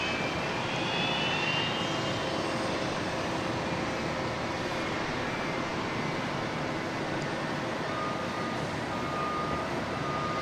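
At Dallas Love Field airport, aircraft engines give a loud, continuous broadband roar that holds steady throughout, with a faint tonal whine drifting across it and no talk.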